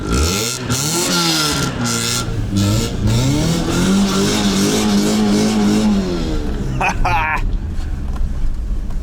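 A car exhaust revs up and down loudly, its pitch rising and falling, with people talking over it and a brief higher burst near the end.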